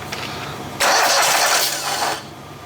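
A Poulan Pro small engine cranks after the key is turned and catches, jumping into a loud, steady running roar that holds for over a second before dropping back toward a quieter idle.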